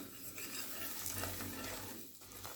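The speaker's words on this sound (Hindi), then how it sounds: "इसको हम लोग घी में अच्छे से भून लेंगे।" Gram flour (besan) roasting in ghee in a pan for winter milk, with a spoon stirring and scraping continuously over a soft sizzle, close and steady, with no talking.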